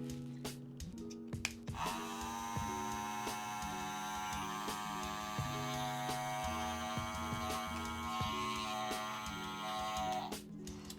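An Andis Masters hair clipper runs steadily and close up, a constant buzzing motor hum lasting about nine seconds after a few handling clicks, then cutting off.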